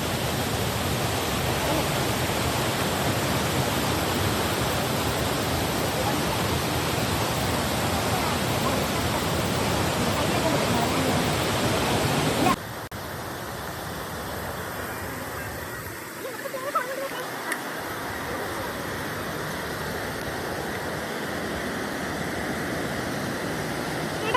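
Steady roaring rush of water at the base of a waterfall, loud and broadband, dropping to a softer, more distant wash halfway through.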